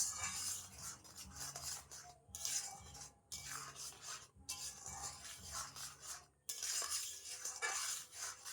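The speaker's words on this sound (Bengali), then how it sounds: "যতক্ষণ না ফুটছে ততক্ষণ খুব ভালোভাবে এটা নাড়তে থাকবে" A batter of palm fruit pulp and flour is stirred steadily in a pot, producing continuous scraping and rubbing with clinks of a utensil against the pan, loud and close, with brief pauses between stretches of stirring.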